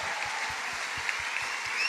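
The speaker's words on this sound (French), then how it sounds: "Bravo et applaudissements" A hall audience applauds Colonel Achille Muller, honored at age 100: steady, dense clapping fills the whole stretch, fairly loud and even, with no voices over it.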